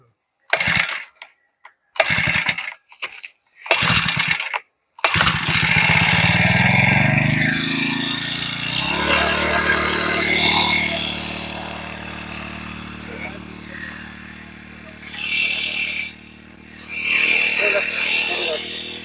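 A small engine is started near an orchard after the mango harvest, catching after a few seconds of nearby talk and then running steadily and loudly, its pitch wavering as it idles and revs.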